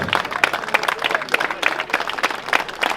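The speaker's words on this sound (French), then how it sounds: "Je voudrais un tonnerre d'applaudissements pour Samy également." Wedding guests break into lively applause, a crowd of hands clapping in an uneven, bursty patter at moderate loudness, with no voices standing out above it.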